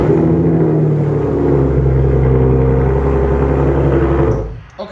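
Infiniti G37 with a VQ engine and aftermarket intakes, holding a loud, sustained rev with a rich, droning tone that cuts off abruptly just before the end.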